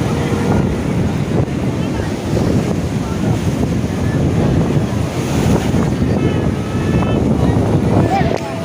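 Rough, churning sea surf and strong wind roar continuously at Gangasagar beach, a dense loud wash with wind buffeting the microphone throughout.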